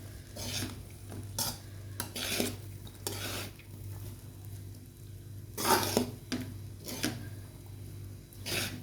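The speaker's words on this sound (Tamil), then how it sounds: "மல்லித்தலை போட்டுட்டு நல்லா ஒரு கிளறி கிளறி விட்டுருங்க" A spoon scrapes and stirs soya fried rice with coriander leaves in a pan, giving several sharp metallic scrapes at irregular intervals over a low steady hum, with no talking.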